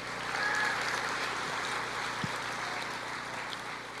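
Steady applause from a church congregation fills the room, a dense patter of clapping that holds fairly even throughout without fading.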